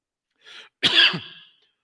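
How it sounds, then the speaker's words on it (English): A single dry cough preceded by a short breathy throat sound, close and clear against silence. "that's a dry throat cough."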